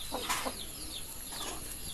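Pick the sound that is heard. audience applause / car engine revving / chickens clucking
chickens clucking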